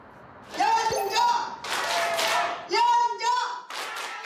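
At a lively singing class, people cheer and clap in bursts, with loud enthusiastic voices calling out over and between the claps, close and energetic.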